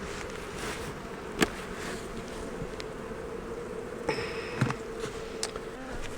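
Honey bees drone in a steady, dense hum throughout an open hive inspection in a wildflower meadow apiary, joined by a few faint knocks and brief handling clicks.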